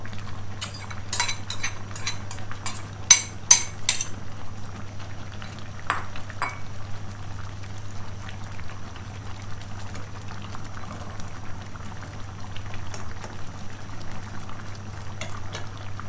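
A pot of bamboo shoot and pumpkin curry boils with a steady low bubbling simmer, joined early by a few sharp clinks of a utensil against the pot and some light stirring.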